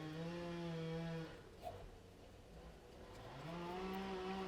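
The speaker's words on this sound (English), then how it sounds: "oh, there's the chainsaw again," A chainsaw drones at a steady pitch, fades and dips for a couple of seconds, then revs back up, heard from a distance.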